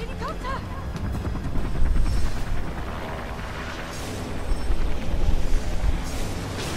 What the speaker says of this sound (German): Der Helikopter.